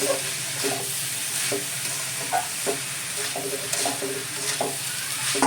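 Grated coconut and sugar stirred in a pan for fresh coconut naru, a steady sizzling fry with repeated scraping strokes of the spoon at an even rhythm, close and alone with no talk.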